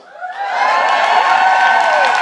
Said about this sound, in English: We're just going to cheer